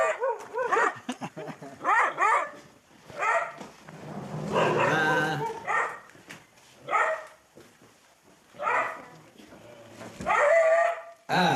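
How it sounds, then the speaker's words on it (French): Hunting dogs in Mexico barking repeatedly in loud, close bursts with yips and howl-like whines, several dogs overlapping in an irregular rhythm throughout. "Quand ça commence comme ça, après tu peux plus les arrêter les chiens."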